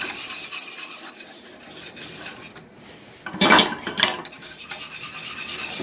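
A turkey gravy roux is stirred in a pan with a steady, close scraping and rubbing, briefly louder and harsher midway, with no voices.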